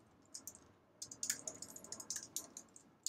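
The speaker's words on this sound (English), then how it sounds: "I keep typing suitor" Quiet, close keystrokes on a computer keyboard during a game development session, a loose run of light clicks building into a quicker burst of typing over a soft background hiss.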